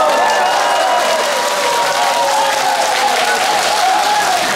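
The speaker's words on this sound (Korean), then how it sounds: "박수 한번 쳐보세요." Loud, dense applause from an audience of older adults at a song festival opening in a theatre hall, continuous clapping filling the whole stretch with no speech over it.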